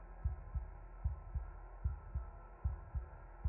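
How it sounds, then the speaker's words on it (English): Loud, steady heartbeat from the video game Slay the Princess, deep paired thumps repeating at a regular slow rhythm, alone over a low hum. "I always forget the heartbeat is so loud."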